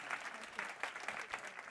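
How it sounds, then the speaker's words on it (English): An audience at a summit event applauds in a steady, fairly faint burst of clapping, individual claps pattering evenly throughout the short stretch. "please give a warm round of applause to Mazoon Al-Malahan"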